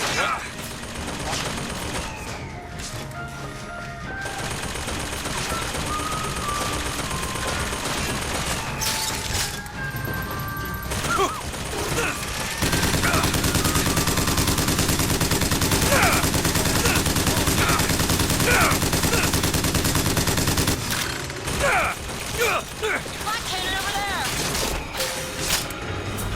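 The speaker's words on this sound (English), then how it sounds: "Stop shooting at me." Sustained gunfire aimed at the player in the shooter Bioshock Infinite, long dense volleys of rapid shots and booms mixed with game music and effects, loudest in the middle stretch.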